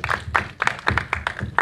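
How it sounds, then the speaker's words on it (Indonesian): Audience at a gala premiere screening of the horror film Jailangkung Sandekala applauds the cast with steady, rhythmic claps under a low crowd murmur. "boleh beri tepuk tangan sekali lagi dong"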